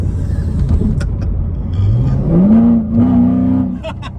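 A Chevrolet C7 Corvette Z51 engine revs hard while driving, its pitch sweeping upward in a loud, close, sustained surge with a brief dip and second climb, heard from inside the car.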